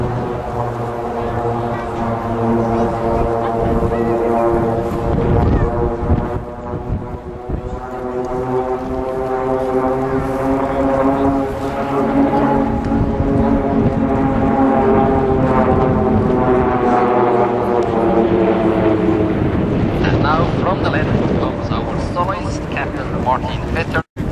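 Swiss Air Force PC-7 propeller trainers fly a formation display at an airshow, their loud, steady engine drone holding with a layered harmonic hum for the whole stretch, likely with commentary over it.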